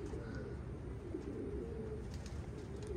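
Racing pigeons coo in low, soft, continuous murmurs during a road-training release, forming a steady, close, fairly quiet flock rumble with no voices over it.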